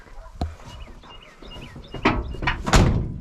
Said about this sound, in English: Door shut good.